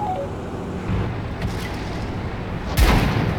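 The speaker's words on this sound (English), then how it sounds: "He's trying to shoot at me." Tank cannon fire rings out in a World of Tanks battle as a T34 fights on the Abbey map, with a few distant booms and then one louder, heavier blast near the end over steady engine rumble.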